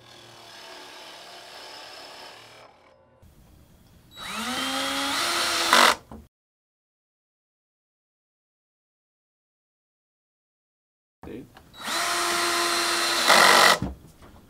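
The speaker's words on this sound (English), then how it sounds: "We're going to use a 35mm Forstner bit to make a recessed" Two bursts of a drill press with a 35mm Forstner bit boring hinge recesses into wood, each a rising whir and grinding cut lasting about two seconds, separated by silence.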